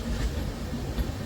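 The Ajmer Shatabdi Express rolls into Rewari junction with a steady low rumble of wheels and carriages, continuous and fairly close.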